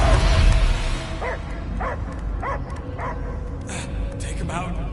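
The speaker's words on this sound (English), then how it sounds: "I hear only barking." A dog barks in a run of short, yipping bursts spaced about half a second apart, fairly close, over a low rumbling background that is loudest at the start.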